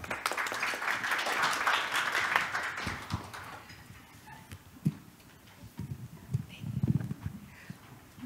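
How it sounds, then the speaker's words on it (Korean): Audience applause at an AI and cloud industry conference session, a steady wash of many hands for about three seconds that then fades into scattered louder claps and thumps. "큰 박수 부탁드립니다."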